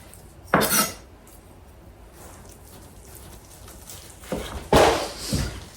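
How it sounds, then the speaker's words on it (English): A knife trims fat off a Sunday roast, with a couple of scraping, clattering bursts against a plate or board, close and fairly loud, separated by quieter stretches. "I'm just gonna trim a little bit of this fat off."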